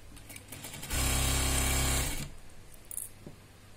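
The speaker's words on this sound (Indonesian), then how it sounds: "Lalu kita jahit dari ujung sampai ujung dengan kampu 1 cm." A sewing machine stitches fabric for a mask pouch in one steady, loud burst of about a second, running at an even pace before stopping, with faint handling noise on either side.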